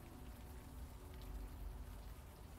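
Rain falls steadily in the point-and-click adventure game Unavowed, a soft, continuous patter and hiss with no speech, quiet and even throughout.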